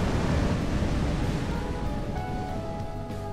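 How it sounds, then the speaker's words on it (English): Huge tsunami waves crash continuously in a Roblox game, a loud, steady roar of surf and rushing water that fills the whole moment without pause. "How are you meant to do this when the waves keep coming?"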